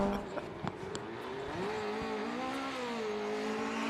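An improved production race car, a modified early small-engined saloon, sprints down the road at the Historic Leyburn Sprints in Australia, its engine loud and close, revving hard and climbing through the gears with a rising, wavering note.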